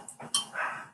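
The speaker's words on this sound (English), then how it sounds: "Do you hear a dog there?" A dog gives a single short bark, fairly faint and a little distant, heard alone with no talking over it.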